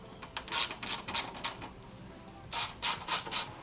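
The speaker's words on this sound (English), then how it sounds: "go ahead and release the cover here for the oil filter, and it is a T27 torque bit that we're going to use" Ratchet turning a T27 Torx bit to release the oil filter cover on a Ford GT350, two bursts of quick clicking strokes, four or five clicks each, close and crisp.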